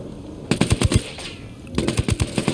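Automatic gunfire in Tom Clancy's Ghost Recon Wildlands on PS5: two loud rapid bursts of shots, the first about six rounds and the second after a short pause, with no talk.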